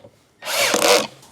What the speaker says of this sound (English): using a drill to do these up